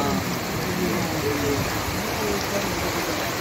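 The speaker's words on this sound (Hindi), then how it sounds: "भयंकर हो रही बारिश" Steady, dense rain hiss fills the whole stretch, a heavy continuous downpour over a village with faint voices beneath it.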